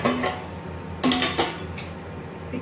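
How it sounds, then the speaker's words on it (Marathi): A metal tawa griddle is set on a stove beneath a pot of coconut rice, giving a few sharp metallic clanks and scrapes of cookware, close and clear with quiet between them. "आणि आता मी हा खाली तवा ठेवून त्यावर ठेवते"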